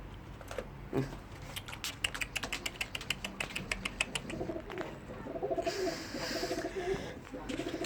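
Pigeons coo on a home balcony where they are kept and fed, with soft close calls over a run of quick tapping and rustling, and a brief noisier stretch near the end.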